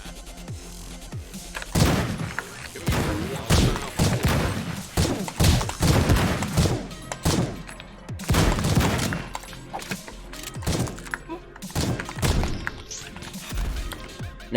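Pistol gunfire in the MADNESS: Project Nexus arena video game, a rapid series of loud close shots and impact smashes in irregular bursts throughout, with thuds between volleys.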